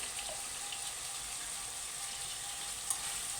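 Bitter gourd fries in oil in a pan, giving a soft, steady sizzle with light watery crackle and one small clink near the end, heard alone without talk.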